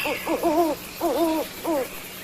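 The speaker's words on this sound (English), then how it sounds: "Hoot owls." Three short bursts of hooting from an owl, each a wavering hoot call, fairly close, over a quiet early-morning background with a faint hum.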